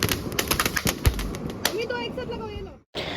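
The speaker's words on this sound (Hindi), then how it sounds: "असली मजे तो आप ले रहे हो पटाखों के" Firecrackers burst with sharp popping bangs at a Diwali Laxmi Pujan, irregular, with crackling and a whistling streak, while people talk and shout nearby.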